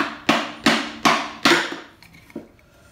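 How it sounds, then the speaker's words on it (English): Four evenly spaced taps of a hammer on wooden beehive parts being fitted together, sharp and close, then a couple of fainter knocks as they settle. "now with the hammer, once you get this lined up and put that on there, just lightly tap along it"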